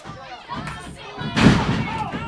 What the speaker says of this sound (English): nice kick to the face